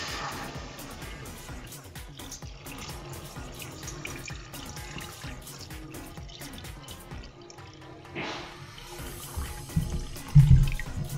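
Water poured into a cooking pot, about one and a half liters, while preparing an Indonesian fish dish; a steady continuous splashing pour runs throughout and grows louder and more turbulent near the end.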